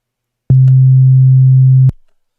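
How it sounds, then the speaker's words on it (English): A single sustained 808-style sine wave bass note from the Serum synth sounds loud and clean, a steady low tone lasting just over a second with an abrupt start and stop. "we're going to start off with a basic shape, which is a sine wave"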